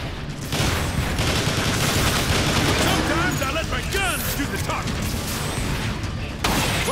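Sustained gunfire and rocket blasts in the Transformers: War for Cybertron video game, a dense, loud barrage with overlapping shots, whooshing projectiles and explosions running continuously, a sharp burst near the end.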